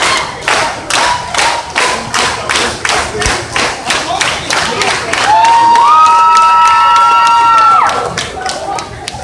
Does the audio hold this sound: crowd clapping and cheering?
yes